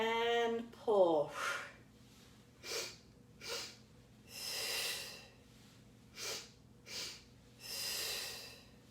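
Sharp nasal sniffing breaths during pilates kicks come in short bursts, roughly paired and rhythmic, close and fairly soft, after a brief spoken cue at the start.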